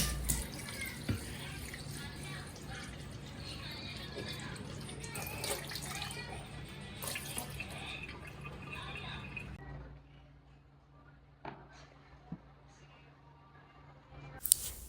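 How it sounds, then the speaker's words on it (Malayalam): Tap water runs steadily while raw chicken is washed under it in a home kitchen, a continuous splashing hiss that stops partway through, leaving a quieter room with a few faint clinks and drips. "ചിക്കൻ എടുത്തിട്ട് ഇങ്ങനെ വെള്ളം പറന്നിടാണ്"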